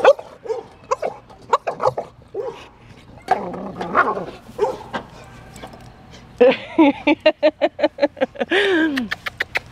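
A pit bull barks repeatedly into a metal bowl in sharp bursts with a hollow, ringing echo, building to a fast run of barks near the end.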